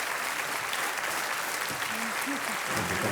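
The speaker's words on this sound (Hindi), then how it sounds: "तालियों के साथ अंजना जी का एक बार अभिनंदन हम करते हैं" Studio audience applause on the set of the Hindi quiz show Kaun Banega Crorepati, a steady dense wash of clapping that fills the whole stretch, with brief voice-like tones rising faintly over it.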